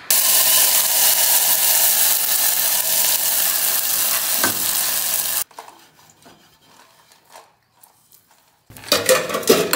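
Dosa batter sizzles on a hot pan with a loud, steady hiss for about five seconds, then gives way to faint clinks of cookware before a noisy burst returns at the end.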